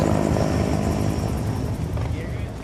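A helicopter sound effect plays in an audiobook scene of an agent running to his helicopter near a military battalion, a loud, steady rotor and engine roar that holds through the whole clip with no break.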